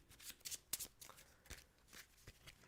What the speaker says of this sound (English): I'm shuffling for no reason.